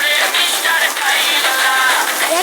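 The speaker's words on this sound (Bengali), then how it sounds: "তাও আবার সাধারণ কোনো বৃষ্টি না, শিলা বৃষ্টি" Heavy rain mixed with hail pounds down in a steady, dense, loud roar that holds without a break, with no voices over it.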